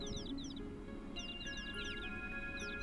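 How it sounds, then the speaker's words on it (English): Repeated short bird chirps in quick descending bursts in Final Fantasy VII, moderately loud over a steady game ambient background. "when you hear the birds chirp, you can actually climb that wall"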